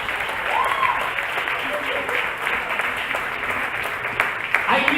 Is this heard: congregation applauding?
yes